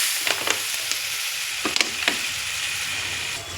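Water poured into a pan of frying spices sizzles steadily, a loud continuous hiss with a few small pops and crackles, no voices.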